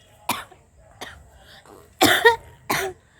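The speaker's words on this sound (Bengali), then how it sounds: "ভাই আমার খুব কাশি ধরছে প্রচুর কাশি ধরছে" A woman coughs in four separate bursts, two short and faint early on, then two loud, harsh, close coughs near the end, with quiet between them.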